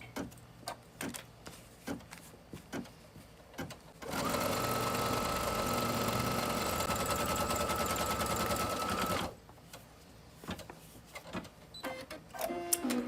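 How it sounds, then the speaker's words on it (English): An embroidery machine stitches a placement line for the bottom background fabric of a wall hanging, a rapid, even mechanical chatter running for about five seconds between scattered clicks and taps nearby. "stitch the placement line for the bottom background fabric. So I'll hit go and do that."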